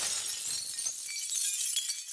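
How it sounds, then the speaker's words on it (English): A glass window shatters in a cartoon animation, a bright crash followed by tinkling shards falling and fading over about two seconds. "The robot was leaning on the glass, and it shattered."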